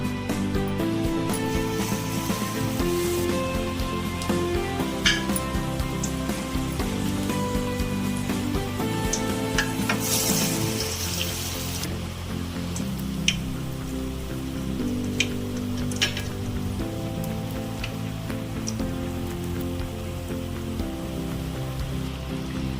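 Greens leaves dipped in batter fry in a pan with a steady, dense crackling sizzle that runs on unbroken, with a few louder pops along the way.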